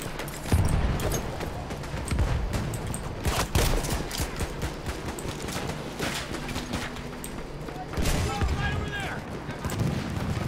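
Rapid gunfire and explosive bursts from the Battlefield 1 video game crackle in irregular volleys, loud and dense, with a player speaking intermittently over the shooting.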